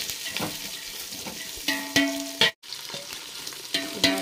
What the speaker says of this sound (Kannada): ಉಳ್ಳಾಗಡ್ಡೆ ಅಂತೂ ಚಲೋ ಫ್ರೈ ಆಗ್ಬೇಕು ರೀ.